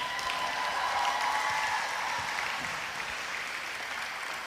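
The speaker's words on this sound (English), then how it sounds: "Let's give them one more big round of applause here." An audience applauds the school's state qualifying cross country team at a sendoff, a steady wash of clapping that holds evenly for several seconds, slowly thinning toward the end.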